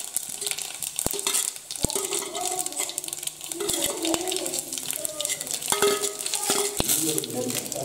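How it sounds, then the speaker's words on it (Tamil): Fennel seeds crackle and sizzle in hot oil in a home kitchen pan for a snail kola urundai curry, with sharp metallic clinks of a spoon against the pan scattered through the steady frying. "எண்ணெய் சூடாகிட்டு சோம்பு போட்டுக்கலாம்"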